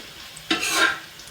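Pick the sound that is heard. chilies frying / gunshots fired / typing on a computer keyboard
chilies frying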